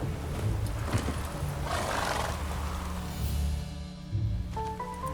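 Roach, the horse in The Witcher 3 video game, gives a loud, close, drawn-out neigh and snort. The sound rises over a continuous rough, roaring ambience and ends with a brief tonal chime.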